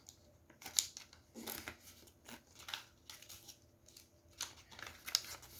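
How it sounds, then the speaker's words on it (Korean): Paper is folded and creased by hand into a sunflower spinning top, heard as a series of short, crisp crinkles and pressing rustles, close and fairly quiet, separated by brief pauses. "접은 반대쪽도 접었으면 이 부분을 아예 눌러 접어주세요."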